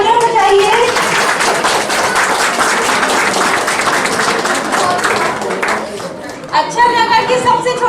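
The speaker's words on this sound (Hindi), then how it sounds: "हार्दिक मैथानी, जिसने हमारे प्रश्न का पहले से जवाब दिया, इसके लिए प्लीज तालियां बजाइए" An audience at a community gathering claps warmly for a child, a dense burst of applause for about six seconds, followed by a speaker's voice over a hall microphone.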